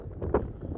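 Wind gusting outdoors around a house, a steady low rumbling buffet across the microphone with one brief stronger push midway and no speech.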